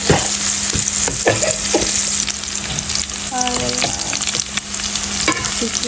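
Onions and chillies fry loudly in a pan, a dense close crackling sizzle broken by repeated clicks and scrapes of a utensil stirring, with no talking.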